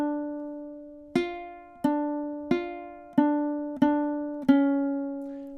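Ukulele plucking out the opening measure of a song, six clean, evenly spaced single notes ringing close and clear in a steady rhythm, each decaying before the next.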